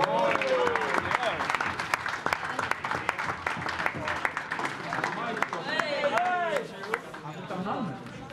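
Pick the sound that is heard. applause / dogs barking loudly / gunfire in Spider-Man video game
applause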